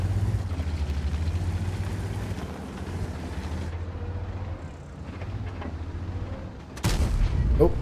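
A tank cannon fires in World of Tanks on the Himmelsdorf map: a steady engine rumble runs throughout, then one loud, sharp blast erupts near the end.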